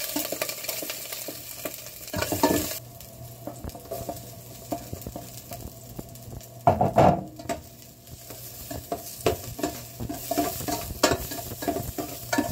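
Ginger, garlic and onion sizzle in hot oil with scraping and stirring clatter from a utensil in a pan, close and steady.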